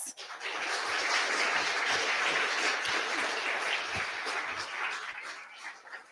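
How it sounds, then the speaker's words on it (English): An audience at a Fusion meetup breaks into steady, sustained applause that fills the room for several seconds before tapering off at the end. "So I'm going to round of applause for Max."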